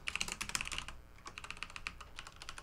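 Rapid clicky keystrokes on a computer keyboard clatter in quick bursts, close and crisp, with a brief pause in the middle before the typing resumes.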